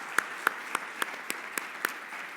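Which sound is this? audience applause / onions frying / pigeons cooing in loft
audience applause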